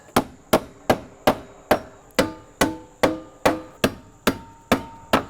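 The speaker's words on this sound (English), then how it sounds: "And I mark the top so I can nail this right on the line." Joist hanger nails being hammered into a metal stair stringer hanger: twelve sharp, evenly spaced hammer blows with ringing metallic decay, close and loud, no voices.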